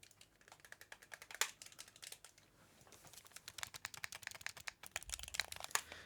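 Clicky buttons on a Razer Kishi Ultra mobile gaming controller are pressed in quick irregular bursts, sharp close clicks and taps with no talking.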